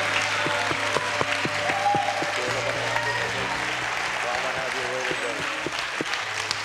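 Clapping and cheering from a church congregation during a service, a loud steady wash of applause with musical tones sounding underneath throughout.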